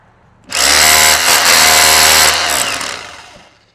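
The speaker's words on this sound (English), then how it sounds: "Now you're going to have a little hammer action." A Bosch Bulldog Xtreme rotary hammer drill fitted with a chisel runs in hammer mode, a loud, steady, rapid percussive buzz lasting about two seconds before winding down, with no talking.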